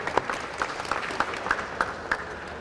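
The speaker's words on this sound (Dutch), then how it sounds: "Can I have an applause for the Republic of China and our Chinese friends?" Modest applause from an audience at a COVID-19 vaccination event, a steady wash of clapping with a few louder distinct claps standing out at a regular pace.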